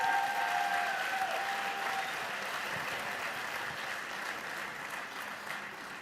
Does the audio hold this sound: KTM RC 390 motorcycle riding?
no